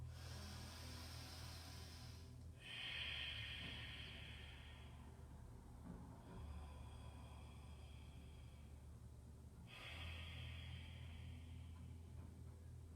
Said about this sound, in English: breathe deep, slow Ujjayi breaths